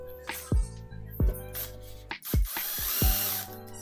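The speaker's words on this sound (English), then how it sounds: "Start drilling the box where the socket and wire of the controller is aligned." Several short bursts of a power drill whirring into a box for an LCD monitor, each starting with a sharp attack, loud and close, with brief pauses between.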